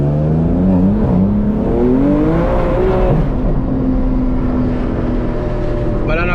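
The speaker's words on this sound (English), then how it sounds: "clutch kicking just gonna allow it to spin instantly" A 500-horsepower BMW M3 with a manual gearbox revs hard as its tires spin up on damp pavement while drifting, the engine note climbing and falling in sweeping rises, heard close from inside the car with a voice talking over it.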